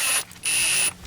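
Power tool snugging bolts on a Wright Stander ZK mower during a hydraulic wheel motor and pump replacement, two loud whirring bursts with a short pause between and a brief click at the end.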